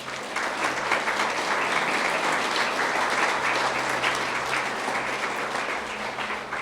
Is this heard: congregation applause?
yes